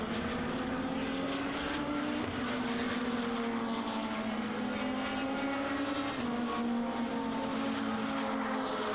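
Lotus racing cars, including a Honda-engined Exige S1 and a Toyota supercharged 211, roar past on the Snetterton circuit during a Lotus Cup Europe race, a loud sustained engine drone with shifting pitch as they pass.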